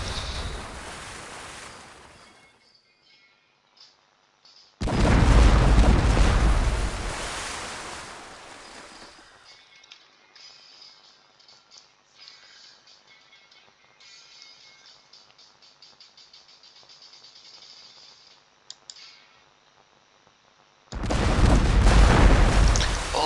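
Ship cannon fire in Port Royale 2, a naval trading game, heard as heavy booming roars that swell and fade over several seconds, separated by long quiet stretches with faint ambient clicks.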